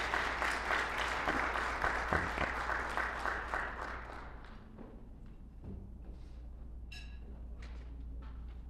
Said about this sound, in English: Please give Brother Anthony a round of applause.